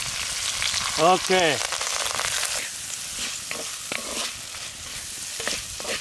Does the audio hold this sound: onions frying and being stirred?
yes